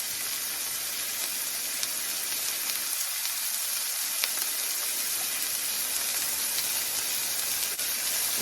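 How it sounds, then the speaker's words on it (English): Smash burgers frying on a hot surface with thin onions underneath, a steady close, loud sizzle and crackle with no talking. "you know how I make my smash burgers? I put very thin onions underneath and cook it together"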